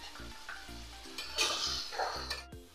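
Spices with onion and ginger frying in hot oil in a pan, a gentle sizzle broken by a few stirring scrapes and clinks, close and moderately quiet, no talking.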